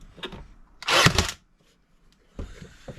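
A Worx brad nailer set to full power drives a nail into walnut hardwood with one sharp, loud pneumatic snap, framed by quieter handling clicks and knocks before and after.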